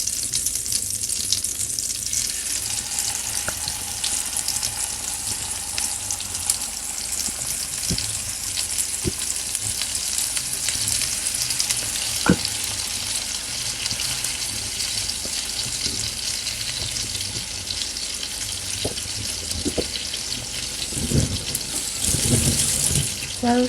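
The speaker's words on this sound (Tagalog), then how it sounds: "While frying fish" Fish fillets frying in melted butter in a pan, a steady loud sizzle that fills the whole stretch, with occasional faint clicks and scrapes close by.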